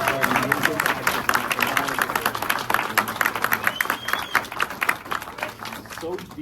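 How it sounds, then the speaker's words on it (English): Dense applause and clapping from an audience at a film Q&A honoring actress Judy Greer, sustained and fairly loud throughout, with voices and cheers mixed into the crowd noise. "let's have an amazing round of applause for an amazing actress."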